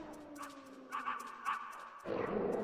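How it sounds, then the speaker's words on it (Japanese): A puppy in the Metal Gear Solid PS1 game gives a few soft, high yips and whimpers over a faint hum, followed by a burst of louder noise at the end. "お、子犬か。"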